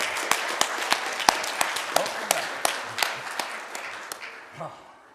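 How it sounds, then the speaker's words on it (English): A church congregation claps hands together in a steady rhythmic beat, about a dozen sharp claps that gradually soften near the end. "If you're happy and you know it, clap your hands."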